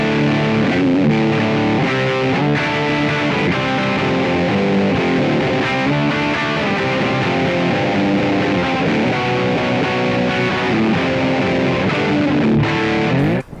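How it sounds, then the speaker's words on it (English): Distorted electric guitar through a Korg AX30G processor's 6L6 tube amp simulation, strummed chords and riffs played continuously with a crunchy, saturated tone, no talking. "that's the sound of the amp simulation."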